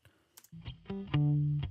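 A Telecaster electric guitar plays a short run of the bass line an octave up, a few plucked notes rising in loudness, with the last note ringing out clearly and alone.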